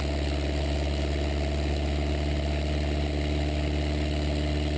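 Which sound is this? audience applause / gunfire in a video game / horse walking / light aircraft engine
light aircraft engine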